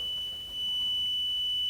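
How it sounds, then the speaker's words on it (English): A smoke detector, soaked with water, keeps sounding with a steady high electronic tone, continuous and fairly loud in a quiet room. "smoke detector's still going"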